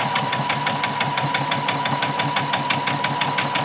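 Sewing machine back stitching along an apron seam, a steady fast mechanical clatter of evenly spaced needle strokes with a faint motor hum, close and continuous throughout.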